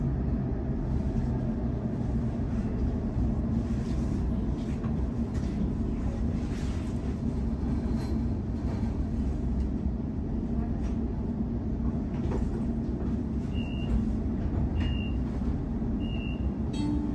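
A Sydney T1 line suburban train running between Artarmon and Chatswood makes a heavy, continuous low rumble throughout. A few short, high beeps sound near the end.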